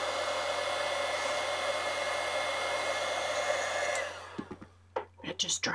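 A heat tool whirs loudly and steadily while it dries a swatch of Ranger color ink on a card, then cuts off, leaving a few faint handling clicks and quiet noises.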